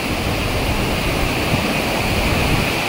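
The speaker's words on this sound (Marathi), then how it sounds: "हे बघा, हा दुसरा वॉटरफॉल." Randha Falls at Bhandardara roaring as a heavy, unbroken rush of falling water, loud and close, a dense steady wash with no pauses and no voices.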